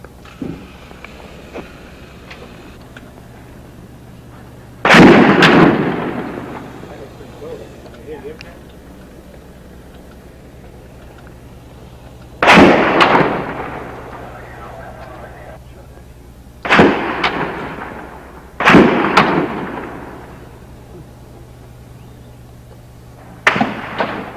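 Rifle shots during the 1966 Austin tower shooting, several loud sharp reports spaced seconds apart with echoing decay across the city, someone talking quietly between them.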